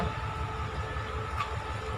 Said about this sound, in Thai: หัวรถไฟอยู่ฟังคุณเด้อพี่น้องค่ะหัวรถไฟเนาะ